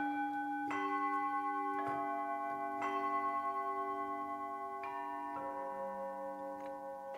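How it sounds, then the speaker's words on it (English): Small Tibetan bell, sampled from the Fluffy Audio Zen Garden library, struck several times in a slow irregular rhythm, each clear ringing strike layered over the long sustaining overtones of the one before. "What does the smaller Tibetan bell sound like?"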